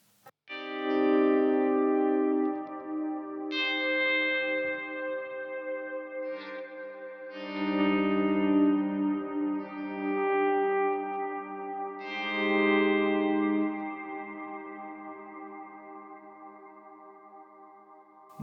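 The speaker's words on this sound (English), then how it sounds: "I'll turn off the DD500 a little bit and you will just hear the long reverb" Long, lush reverb from a Boss DD-500 digital delay pedal on electric guitar: sustained chords swell and ring out, each wash decaying slowly into a shimmering tail, played alone without voices.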